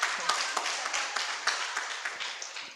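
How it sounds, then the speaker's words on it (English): Audience applause at a work readiness boot camp for young women, a room of hands clapping in a steady, moderately loud patter for a few seconds. "give her a round of applause as she comes"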